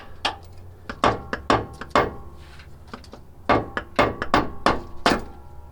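Hammer blows tapping a bolt out of a Hummer H3 differential during a diff drop install, a series of sharp metallic knocks in irregular clusters, close and loud, with no talking.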